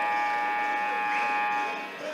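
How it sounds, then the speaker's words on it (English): A basketball arena buzzer sounds at a championship game, holding one loud, steady electronic tone for the whole stretch over a low crowd murmur. "As the buzzer sounds"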